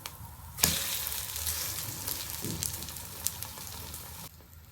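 Egg masala toast fries in ghee on a pan, a close steady sizzle that starts abruptly, crackles on with small pops, then cuts off near the end.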